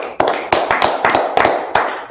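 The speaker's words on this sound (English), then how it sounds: "Let's clap it up for the Lord." A small group clapping for the Lord at a Tuesday brotherhood class, a rapid uneven burst of many close, sharp claps layered together for a couple of seconds, with no talking over it.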